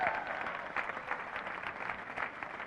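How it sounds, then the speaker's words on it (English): A seminar audience claps steadily for a volunteer called onstage, producing a fairly faint, even wash of applause throughout. "Give a round of applause."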